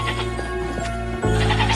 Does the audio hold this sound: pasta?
no